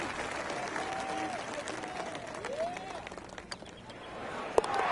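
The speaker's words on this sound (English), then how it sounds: "Crowd goes wild after that eagle." Golf gallery at a PGA Tour event roaring and applauding after an eagle, a broad steady wash of cheers and clapping heard from a distance, with a commentator's voice talking over it.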